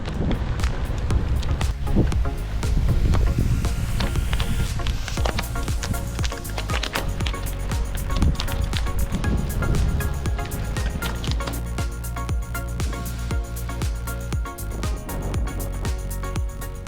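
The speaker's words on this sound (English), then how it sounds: "every oak tree along the way has dropped thousands of acorns on the road, and they make an interesting noise as you ride over them" Bicycle tyres rolling over thousands of fallen acorns on a road lined with oak trees, giving a steady, irregular stream of close crackling crunches and pops over a low rumble of wind and road noise.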